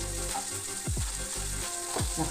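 Okra frying in a pan, a steady sizzle running throughout, with a few louder scraping turns as the pieces are flipped over, close and fairly loud.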